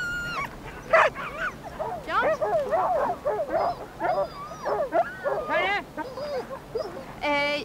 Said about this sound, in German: Die Huskies sind bei all den Weihnachtsvorbereitungen ein bisschen zu kurz gekommen und ungeduldig.